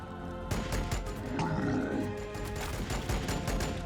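Dense gunfire and battle noise from the video game Warhammer 40,000: Battlesector, with rapid bursts and growls blending into a continuous loud roar. The din holds steady from start to finish.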